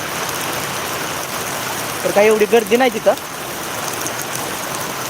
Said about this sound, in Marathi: पाऊस येतो त्यामुळं थांबलो होतो शेडमध्ये